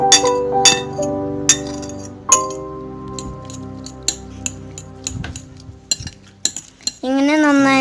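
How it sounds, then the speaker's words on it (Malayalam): A spoon clinks and scrapes against a glass or metal bowl while mozzarella cheese and chopped tomato are mixed for stuffed capsicum, bright irregular taps followed by a brief sizzle-like hiss at the end. "മൊസറല്ല ചീസും തക്കാളിയും ഇട്ട് കൊടുക്കുക. എന്നിട്ട് ഒന്നും കൂടെ മിക്സ് ചെയ്ത് കൊടുക്കുക."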